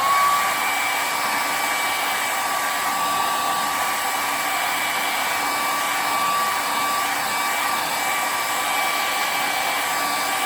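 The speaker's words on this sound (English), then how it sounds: "so I'm gonna use my blow dryer." A blow dryer runs steadily at close range, drying wet white paint with a constant whooshing hum from start to finish.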